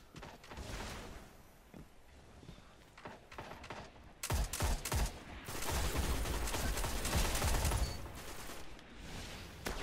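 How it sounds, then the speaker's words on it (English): Gunfire crackles in a Destiny Crucible match, with scattered shots at first, then a louder, sustained barrage of rapid fire. "Oh, that was you shooting"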